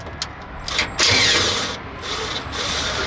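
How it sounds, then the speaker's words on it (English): Metal fasteners being worked loose with a 7/16 socket wrench on a MEGATOWER LED light tower panel, giving a close run of light clicking and rattling that swells into a louder steady scraping hiss, with no talk. "To open this up, use a 716 socket. You can also use a wrench"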